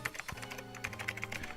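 Rapid clicking keystrokes on a computer keyboard, close and quiet, a quick uneven patter with a few heavier taps.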